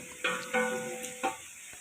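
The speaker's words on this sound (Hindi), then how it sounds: "हम लोगों ने इन गरम मसालों को इसके अंदर कम से कम 1 मिनट के लिए अच्छे तरीके से फ्राई कर लेना है।" Whole garam masala spices fry with onions in a pot for chana pulao, giving a faint, low sizzle broken by a few short stirring scrapes.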